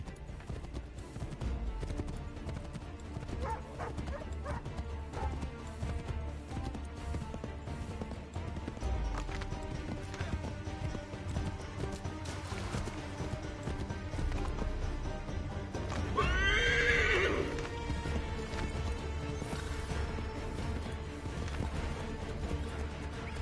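Rhythmic hoofbeats of a galloping horse in the video game Assassin's Creed 3 run throughout, with a brief whinny partway through over busy background noise.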